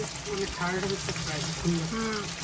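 Food for a roast fries in a pan with a steady close sizzle and soft stirring scrapes, while a person talks over it throughout.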